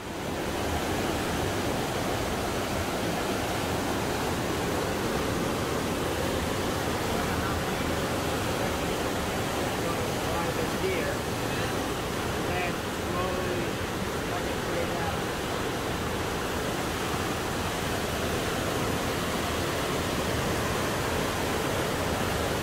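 Water flowing beneath a bridge at Natural Bridge in the Berkshires, a continuous broad rushing roar that stays steady and loud throughout, with no breaks.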